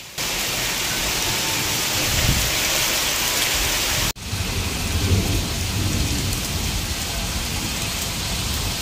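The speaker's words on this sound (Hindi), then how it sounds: "इतनी तेज बारिश आई है" Heavy monsoon-style rain pours down in a dense, loud, unbroken roar on a village house, with a low rumble of thunder underneath and a brief break midway, rain reaching inside.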